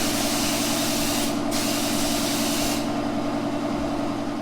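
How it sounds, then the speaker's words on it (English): A sprayer applying primer coat to a house under construction in the Philippines, a loud continuous hiss with a steady mechanical drone underneath and no talking. "This is all the primer coat. Has been spray painted."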